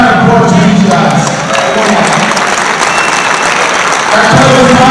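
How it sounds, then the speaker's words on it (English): Loud, dense applause and cheering fill a college dual wrestling meet between Ohio State and Princeton, steady throughout with a brief dip midway and a voice on the PA underneath. "Do a big round of applause to these guys."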